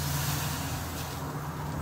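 Snow pressed onto hot car brakes on a snowy Colorado roadside gives off a steady, loud hiss of steam that holds without break over a low rumble.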